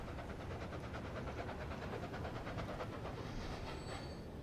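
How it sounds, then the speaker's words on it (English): A passenger train in the railway simulation game Transport Fever 2 rolls past with a steady, dense rumble and rhythmic clickety-clack of wheels over track joints, continuous and fairly close throughout. "That's a passenger train."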